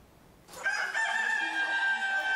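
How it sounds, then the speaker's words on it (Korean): Hens and a rooster in a chicken coop of blue-egg-laying chickens on a poultry farm, a sudden burst of loud, continuous crowing or clucking that starts after a brief quiet moment and holds steady to the end. "닭장 속 암탉들의 움직임이 부산합니다."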